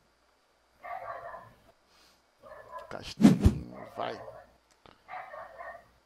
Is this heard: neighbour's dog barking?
yes